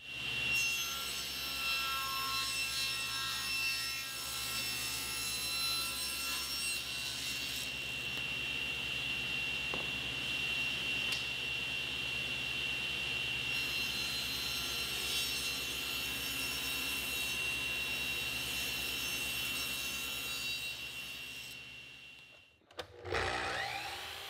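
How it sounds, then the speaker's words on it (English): A table saw rips poplar molding at a 6-degree angle, its blade whining at a high steady pitch through the wood for about twenty seconds before winding down, close and alone. "After making the molding on the table saw, I'll cut a 45-degree angle on one side."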